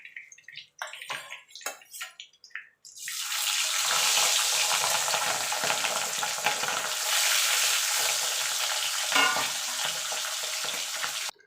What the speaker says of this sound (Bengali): তুলে বাকি যে মাছগুলো আছে সেগুলো আমি ভেজে নেব।